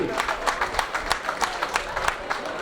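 Audience clapping in a rhythmic, steady beat at a gathering, a crowd applauding together with a voice faintly mixed in underneath.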